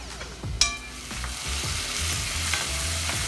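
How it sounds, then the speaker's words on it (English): Diced onion and tomatoes fry in cooking oil for a beef caldereta, a steady close sizzle with repeated stirring scrapes and one sharp utensil clink near the start. "3 minutes into cooking your onions and your tomatoes"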